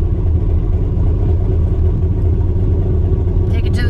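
A car engine that has just started runs at a steady idle, a close low rumble filling the cabin throughout, with a faint rustle near the end.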